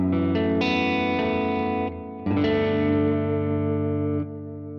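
An electric guitar played through the analog delay effect of a Zoom G6 multi-effects pedal rings out in sustained chords with trailing repeats, loud and alone, with a brief dip before a new strum.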